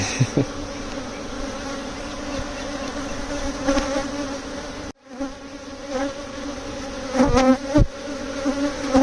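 A swarm of honey bees hums loudly and continuously as it is moved into a Layens hive outdoors, with a short dropout midway and individual bees zipping close past now and then.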